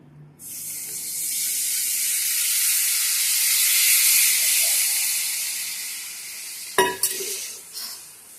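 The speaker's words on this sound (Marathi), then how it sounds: "आता याच्यामध्ये हे थोडस उकळल्यासारखं व्हायला लागलेलं आहे मिश्रण" Peanut curry mixture simmering in a pan gives a steady broad sizzling hiss that swells and holds, then ends with a brief clatter near the end; no voices.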